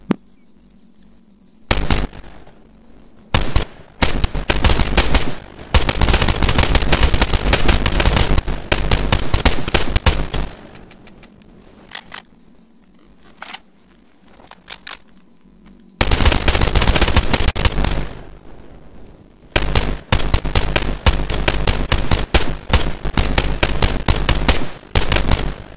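Military rifle with a 30-round magazine, first in service in 1972, fired in a modded war game at 706 rounds per minute: loud sustained automatic bursts, several long strings of rapid shots separated by short pauses.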